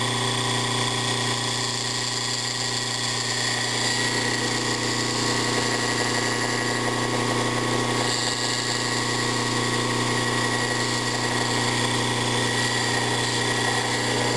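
A steady electric motor hum from an antique ESCO synchronous motor with old, worn bearings drones on without pause, with a faint rattling, grinding texture underneath, close and constant.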